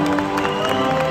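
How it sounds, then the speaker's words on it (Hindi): Audience applause for the performers at a live comedy show in the USA, a dense steady wash of many hands clapping with crowd noise, sustained throughout and fairly loud. "एक बार सब कलाकारों के लिए जोरदार ताली बजाएं।"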